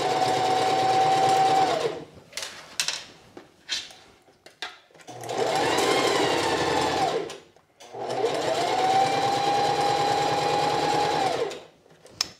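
Sewing machine stitching bias tape around the underarm of a sheath dress, three loud sustained runs of whirring stitching separated by short pauses with light handling clicks.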